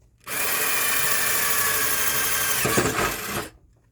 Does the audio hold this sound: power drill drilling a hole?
yes